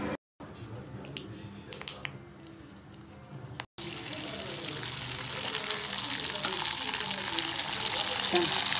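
Rice vadam (arisi vethal) hits hot oil: a quiet start with faint clicks, then a sudden loud, steady frying hiss and crackle that keeps going, with a voice talking over it early on.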